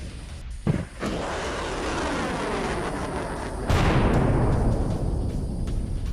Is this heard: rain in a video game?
no